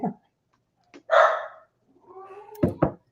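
A dog gives a few short barks and yelps with quiet gaps between them, close by and clear, in an indoor room during a live sports-betting chat.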